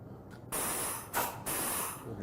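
Air spraying from a Graco G-X7 spray foam gun as it is triggered: two sharp bursts of close, loud hissing separated by a brief pause, each cutting in abruptly over a quiet workshop background.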